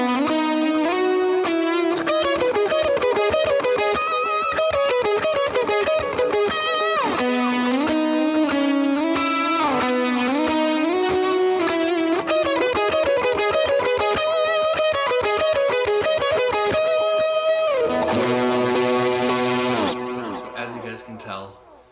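Electric guitar played through a JHS Bender Fuzz pedal with delay and reverb, a loud, continuous fuzzy melodic line with sustained distorted notes and shifting pitch, ending in a ringing, decaying tail.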